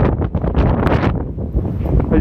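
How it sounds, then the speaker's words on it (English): Strong wind buffets the microphone on a deserted Benidorm seafront, a loud, rough, constant roar with gusty surges throughout. "As you can hear, it's quite windy today."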